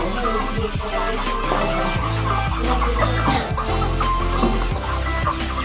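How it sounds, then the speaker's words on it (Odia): Live chickens kept for a village chicken feast cluck and squawk continuously at close range. Overlapping calls and background bustle fill the scene, with faint human sounds mixed in. "ଚିନ୍ମୟ ବାବୁ ସବୁ ଆମର କୁକୁଡ଼ା ରଖିଛନ୍ତି।"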